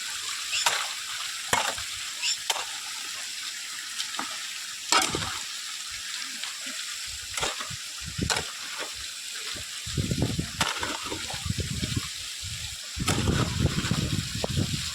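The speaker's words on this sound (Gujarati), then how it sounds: "કેવું મસ્ત મજાનું પાણી ખડખડ ખડખડ કરતો" Steady rushing, gurgling water close by, punctuated by scattered clicks and knocks, with a few low rumbling bursts near the end.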